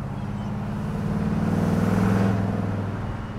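A 1970 Chevrolet Chevelle rolls along a road, its engine a steady low rumble that swells slightly mid-clip, heard from inside the car with no talking.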